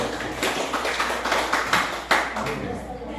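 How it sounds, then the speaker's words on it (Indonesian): A classroom of students claps for a presenting group, a short burst of scattered, close handclaps rising and falling in loose rhythm. "Kita beri tepuk tangan dulu untuk kelompok 1"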